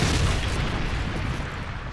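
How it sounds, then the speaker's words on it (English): A Predator missile explosion in Call of Duty: Modern Warfare 3, during team deathmatch on the Resistance map, lands as a loud, sustained rumbling boom filling the whole moment. "Friendly Predator missile inbound"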